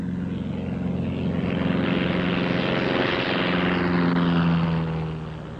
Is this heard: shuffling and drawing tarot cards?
no